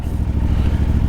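A CF Moto 450 MT motorcycle engine runs close and loud, a steady throbbing idle with a rapid pulsing beat and a slight clattery edge, no voices.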